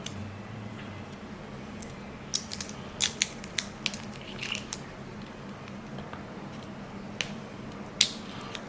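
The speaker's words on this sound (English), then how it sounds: "And then I unwrap the serai." Tough outer layers of a lemongrass (serai) stalk are peeled away by hand, giving a scatter of small, sharp crackles and snaps in uneven bursts, close and fairly quiet over a steady low room hum.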